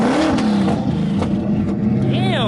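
A Chevrolet Camaro ZL1 engine revs and roars loudly through the exhaust, rising and falling, with people talking over it.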